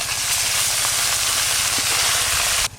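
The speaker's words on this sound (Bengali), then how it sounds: "এখন যে পুঁটি মাছ ভাজতেছে" Puti fish fry in a pan with a loud, dense hiss of hot oil that runs steadily and close before cutting off near the end.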